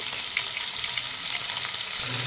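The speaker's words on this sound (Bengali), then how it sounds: "এখানে আমি 5 পিস মাছ দিয়ে দিয়েছি। এবার ভালো করে এটা ভেজে নেব।" Five pieces of fish frying lightly in hot oil for doi katla, a dense, continuous crackling sizzle, close and steady throughout.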